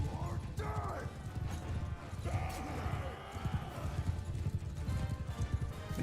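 Horses in the Bannerlord video game gallop with a steady, busy clip-clop of hooves over a full battle din, with a horse whinnying early on.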